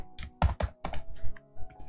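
Close, quick typing on a computer keyboard: a burst of crisp key clicks in an uneven rhythm, several sharp taps followed by lighter presses and a short pause.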